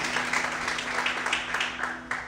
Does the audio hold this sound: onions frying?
no